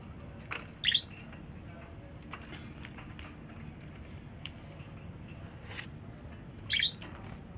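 Pet birds kept at home give two short, bright chirping bursts, one early and one near the end, over quiet room background with faint tapping.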